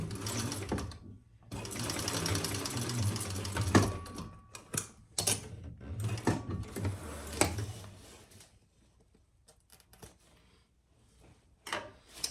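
A sewing machine runs in bursts as it stitches a short tacking seam across the corners of a bowler bag, its rapid mechanical whirr loud and close, stopping and starting with quiet pauses and small clicks between runs.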